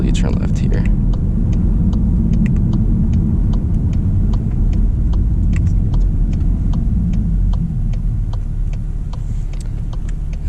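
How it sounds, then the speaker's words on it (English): A 2024 Volkswagen GTI MK8 with a dual-clutch transmission pulls hard through third gear, its engine a loud, steady low rumble inside the cabin alongside a faint ticking. "It pulls a decent amount. I felt that pulling all the way through third."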